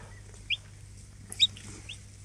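Newly hatched Araucana chicks fresh from an incubator give a few thin, high peeps, two of them clearer and a little louder, over a quiet low background hum.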